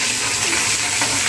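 Ginger, garlic and curry leaves sizzle steadily in hot oil, a dense, loud, close crackling hiss with no voices.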